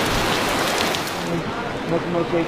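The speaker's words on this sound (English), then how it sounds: "it is downpouring right now, so we're just waiting out the rain" Heavy tropical downpour on Lamu island, Kenya: dense, loud, continuous hiss of rain hammering surfaces nearby, with a few faint voices murmuring under the roar.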